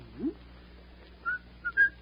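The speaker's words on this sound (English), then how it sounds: "I notice you whistle that tune when things are going well." Soft whistling of a few short, clear notes, faint and spaced out, in an otherwise quiet room.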